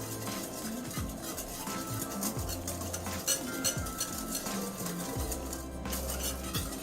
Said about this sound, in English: 2 cups of milk into your pudding. And then I'm going to whisk all that, get it nice and thick